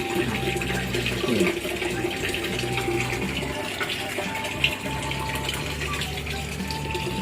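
Water pours steadily into a tank for river prawns and apple snails, a continuous gushing, splashing flow like a pump or tap filling it, heard close and unbroken.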